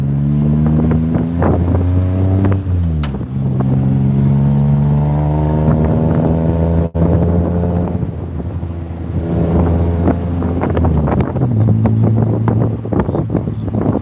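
Tuk tuk ride along a Bangkok street near Khao San Road: a small engine drones steadily with its pitch climbing and dropping as it speeds up and slows, under constant wind buffeting and street noise, with no talking.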